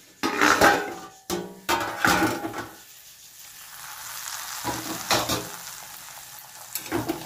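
Taro stolons (kochur loti) frying in a covered pan, a steady sizzle with bursts of stirring and pan scrapes and clatter, settling into a quieter continuous fry toward the end.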